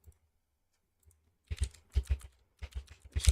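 Keys clatter on a computer keyboard in quick bursts of typing, close and clear, after a second or so of near silence.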